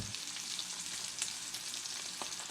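A diner-style egg fries in a pan with a continuous, even crackling sizzle heard up close, with a few small pops and no speech.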